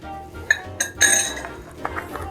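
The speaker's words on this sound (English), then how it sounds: "get your ice. 4 cubes" Four ice cubes drop one after another into a glass mixing glass for a Sazerac cocktail, each landing with a bright close clink and rattle.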